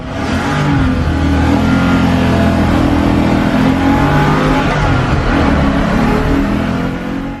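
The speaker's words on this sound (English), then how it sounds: "he took us for a spin in his V8 powered 510" A V8-powered Datsun 510 roars with a loud, sustained engine note, revving hard and steadily close by for the whole stretch without a break.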